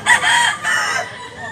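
A sweater-bred fighting rooster in Consolacion, northern Cebu, crows in one loud, close call, its strained, wavering note held for about a second before tailing off.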